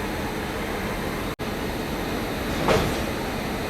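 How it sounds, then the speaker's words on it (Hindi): Railway locomotive, a WAP7 electric, coupling onto coaches of the Raxaul Sadbhawna Express at a station; a steady rumbling roar fills the clip, broken by a brief near-silent gap, with a sharper clunk-like swell near the end. "ये लो भाई साहब, ये आवाज़ आ जाए समझ लो लोकोमोटिव की हो गई कपलिंग सक्सेसफुल।"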